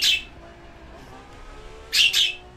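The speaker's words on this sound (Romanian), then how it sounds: "Îmi cer scuze pentru papagalul meu, dar nu am ce să fac." A pet parrot lets out sharp, bright chirps, one near the start and a quick double chirp near the end, over faint engine hum from a racing game.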